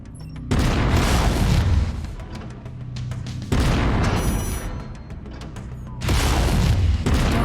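Heavy weapons fire aimed at a mech's cockpit in the video game MechWarrior 5: three loud, booming bursts of sustained blasts, each lasting over a second, separated by rumbling lulls, close and forceful.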